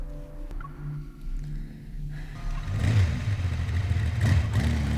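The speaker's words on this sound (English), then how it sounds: "I can hear his motorbike!" Quiet rumble, then a motorbike engine in the video game Love and Deepspace revs up loudly, its pitch rising and wavering in two surges.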